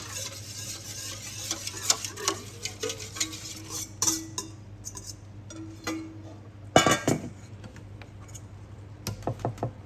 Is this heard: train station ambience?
no